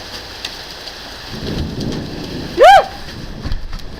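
Heavy rain pours steadily through a massive thunderstorm, a dense hiss close by with a deeper rumble of thunder, and a single excited whoop cuts in near the end.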